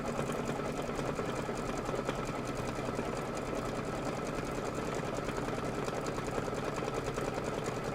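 An embroidery sewing machine stitches a decorative pattern with a continuous, rhythmic mechanical chatter, close and constant throughout, with no talk.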